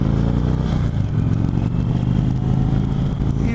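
A 2018 Indian Chieftain Dark Horse motorcycle accelerating, its big engine a loud, close, steady rumble with wind noise over a few seconds, no voices.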